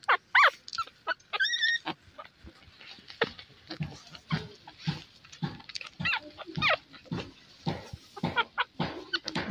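Young Shih Tzu puppies, eyes just opened, whimper and yip in a rapid string of short, high cries and squeaks close by, with no talk over them.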